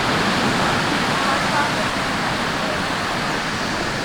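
Rough surf at high tide along a seafood-stall shoreline, a steady broadband roar of breaking waves that fills the whole clip with no pauses and no voices.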